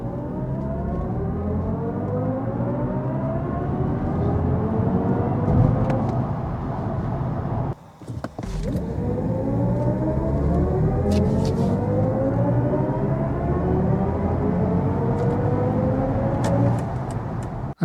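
A BMW i5 eDrive40 electric car accelerating hard in a test run, its motor whine sweeping steadily upward in pitch over road rumble, with a short dip in the middle before a second rising sweep.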